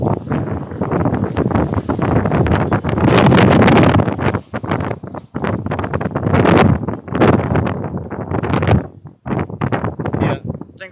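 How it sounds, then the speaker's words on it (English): Strong gusts of wind roar across an outdoor microphone in long, loud buffeting bursts that rise and fall for several seconds, with brief lulls between them. "I'm just hiding behind a tree because there's a massive gust of wind"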